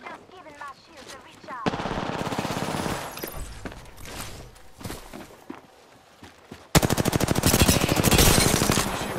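Gunfire in Apex Legends comes in repeated bursts, loud rapid automatic fire that falls away to quieter clatter and footstep-like taps before a final close, fast volley. Voices are faintly present in the background.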